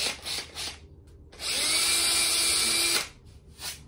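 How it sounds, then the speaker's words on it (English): A power drill whines at high speed for about a second and a half, boring steadily through wood on a guitar build, with quieter handling knocks before and after. "carefully drill"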